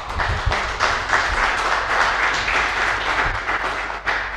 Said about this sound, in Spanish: Las despedimos con un aplauso.